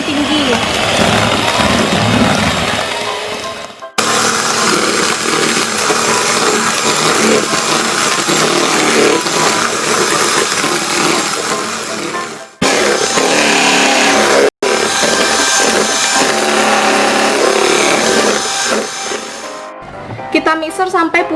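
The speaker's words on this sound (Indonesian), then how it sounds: "Kita mixer sampai putih kental berjejak gini." An electric mixer whips pandan chiffon batter at its highest speed, giving a loud, steady motor whine that cuts out briefly a few times and then restarts, with someone talking over it.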